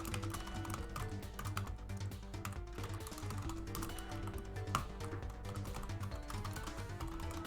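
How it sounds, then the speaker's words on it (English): Continuous computer-keyboard typing, dense and steady for the whole stretch with one slightly louder keystroke midway, set against a busy background of constant low sound. "I'm typing a thing and then I'll explain what I'm doing."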